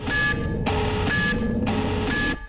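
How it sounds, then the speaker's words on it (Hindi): A home security alarm on a CCTV camera outside a house sounds during a break-in attempt, giving loud electronic tones that repeat steadily about once a second. "घर के बाहर लगे सीसीटीवी कैमरे में लगा अलार्म सिस्टम एक्टिव हो गया और बजने लगा"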